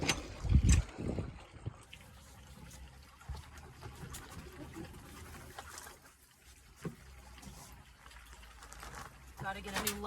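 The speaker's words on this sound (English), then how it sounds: "Got to water the garden." Water running and trickling while a garden is watered outdoors, a steady soft flow with a louder splash near the start, heard under a person talking.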